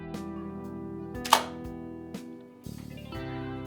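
A Hasselblad 503CW medium-format camera releases its shutter with a single sharp mechanical clack, followed by a few fainter clicks, heard close over a steady background music bed.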